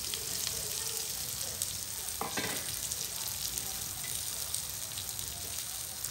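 Fennel and cumin seeds splutter and crackle in hot oil in a pan, a dense, continuous sizzle with scattered pops close up, no talking over it.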